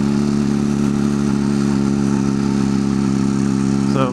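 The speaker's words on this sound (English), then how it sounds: "This is a fun little bike to ride though." A small motorcycle engine drones steadily while being ridden, a loud, even mid-pitched hum with a slight rise in pitch near the end and no talking.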